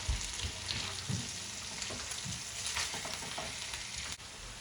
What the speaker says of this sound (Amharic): ያው እንደዚህ እያዟዟርኩኝ አበስላለሁ ማለት ነው።